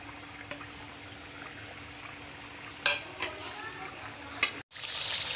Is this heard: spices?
yes